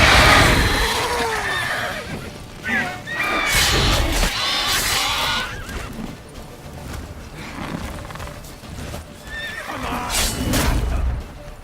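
Roach, a horse in the video game The Witcher 3, lets out several loud, close whinnies and snorts, with hoof clops and game ambience beneath.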